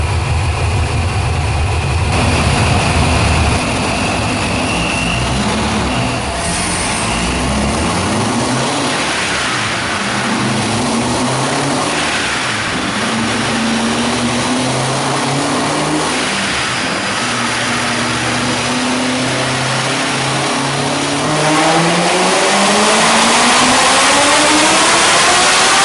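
A boosted Chevrolet Corvette C7 Stingray with an A&A supercharger revs hard at full power, its loud engine climbing steadily in pitch through a long pull, then dropping and rising again near the end, with no voices.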